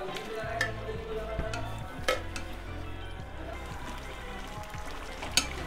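Chicken is fried in masala with yogurt for a large 2 kg Rajasthani chicken pulao, giving a low, dense sizzle and bubbling with a few spoon clinks and one sharp knock near the end, close up and without speech.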